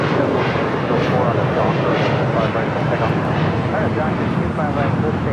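A heavy airliner departs from the south side of Los Angeles International Airport, heard from Imperial Hill as a loud, sustained jet roar with a voice talking over it.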